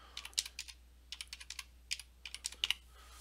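Light, uneven typing on a computer keyboard in short bursts of clicks with brief pauses, close by and fairly quiet, with no talking.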